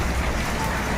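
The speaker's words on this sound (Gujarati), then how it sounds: "વરસાદ ભરપૂર ચાલુ છે અત્યારે" Heavy rain pours steadily in a dense, even hiss that fills the whole moment, with no voices.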